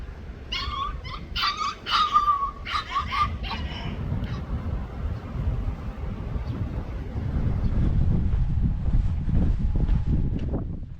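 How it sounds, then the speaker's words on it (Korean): Puppies met along a coastal country path give high yips and whimpers in short bursts early on. Then gusty wind noise takes over. "길을 걷다 우연히 마주친 강아지들도 참 귀엽네요."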